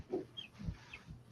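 Faint, scattered clucks and short calls from birds resembling chickens, heard as a few brief soft notes, quiet and somewhat distant.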